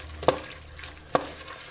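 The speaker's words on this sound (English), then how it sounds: "And just going to kind of saute this up a little bit." Vegetables sauté in a pan, a soft steady sizzle with two sharp scraping stirs of a utensil about a second apart, close and alone without talk.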